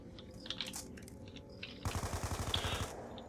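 Rapid bursts of automatic gunfire in Black Ops 2 Zombies, steady rhythmic shots that start abruptly partway through and run in a loud, evenly spaced string over a quieter stretch of game sounds.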